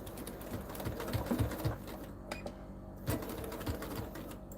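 Sewing machine stitching a French seam on a lace-zippered project pouch, a quiet rapid mechanical clatter running steadily with brief pauses and small clicks.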